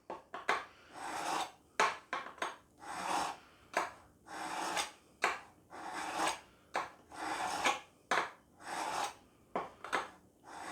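A kitchen knife is drawn through an Any Sharp knife sharpener in repeated rasping strokes, about a dozen, each a gritty scrape with short gaps between them, close and clear.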